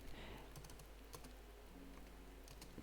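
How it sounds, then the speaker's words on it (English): Steady keyboard typing, a quick run of soft clicking keystrokes close by, with no talking. "So just hit enter, keep typing."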